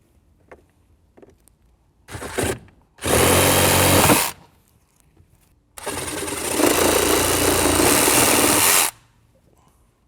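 Power tool trimming the plastic center support of a Jeep Wrangler JK dashboard, two loud grinding bursts, a short one and a longer three-second one, separated by quiet gaps with small handling noises.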